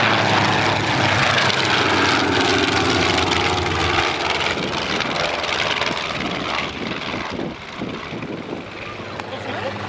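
Cassutt racing aircraft at Old Warden sweep past on a final low pass, a loud, steady propeller and engine roar that swells and then fades over about ten seconds.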